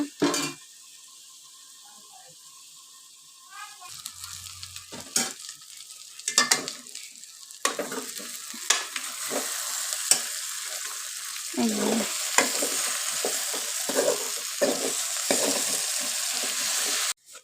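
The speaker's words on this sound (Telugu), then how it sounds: "ఇలా ఫ్రై చేసుకు ఇలా ఆయిల్ వేసుకున్న తర్వాత ఒక ఐదు నిమిషాలు మూత పెట్టి మగ్గించుకోవాలన్నమాట" Raw banana slices fry in oil in a pan while being stirred, giving a steady loud sizzle with scraping stir strokes throughout, a quieter start then fuller frying noise.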